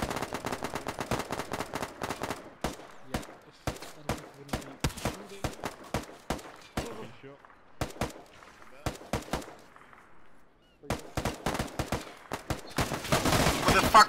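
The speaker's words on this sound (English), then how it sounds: "Who the fuck is shooting? Can you stop shooting?" Gunfire in the Arma 3 military game: sharp, loud rifle shots and rapid bursts crack in irregular clusters, with short quiet gaps between volleys and a dense stretch of rapid fire at the end.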